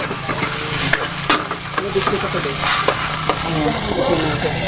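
Bitter gourd dipped in egg frying in a pan gives a loud, constant sizzle and crackle, with repeated scraping stirs of a utensil against the pan, heard close throughout.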